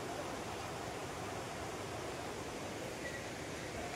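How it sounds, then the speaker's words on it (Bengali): Cold water of the Sheetal Nala stream on Parasnath Hill, fed by a waterfall, rushes in a steady, dense broadband wash that stays at an even loudness throughout with no break. "এটা হচ্ছে শীতল নালা। যে ঝর্ণাটা মনে হয় আগে দেখেছিলাম ওটারই অংশ মনে হয়।"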